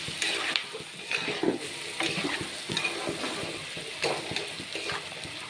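Meat sizzles and spatters in a hot pan of spice paste, with scraping stir strokes every second or so over a steady frying hiss.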